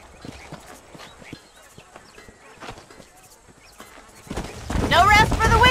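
Horses in the Red Dead Redemption video game clip-clopping with scattered hoofbeats and thuds, growing louder before a voice starts speaking near the end.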